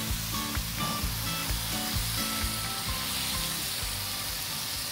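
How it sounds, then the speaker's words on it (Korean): Jajangmyeon noodles laid over lightly blanched bean sprouts on a heated stone plate give off a steady, close, loud sizzle and crackle with a few soft stirring knocks, and no one speaks. "면발이 눌어붙지 않게 살짝 데친 숙주를 깔고 짜장면을 넣어줍니다."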